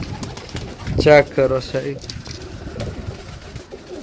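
Pigeons coo softly in a low, murmuring rhythm close by while someone talks over them.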